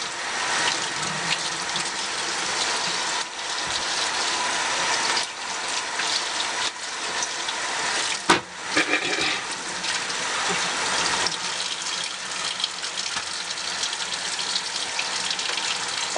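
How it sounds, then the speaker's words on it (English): Tap water runs steadily into a sink while makeup brushes are washed, a close, continuous gush with a brief clatter midway and no talking. "now that we're done washing the brushes"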